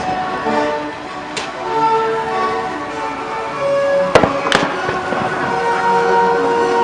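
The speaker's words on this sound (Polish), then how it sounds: "Strzelanie z karabinu" Muskets fire at a reenactment of the 2011 battle for Wisłoujście Fortress in Gdańsk. One sharp crack is followed by two loud close reports in quick succession, all over a steady outdoor background hum.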